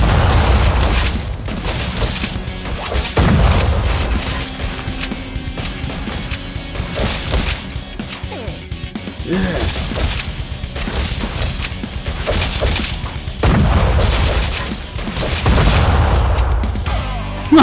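Boss laser cannon blasts in the Badass Hero video game: repeated booming, crashing bursts in rapid succession, loud and close, with short gaps between volleys.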